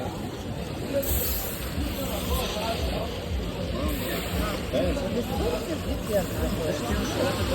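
A spray can hisses in a continuous broadband burst near a beach restaurant, partly masked by people talking and outdoor background noise.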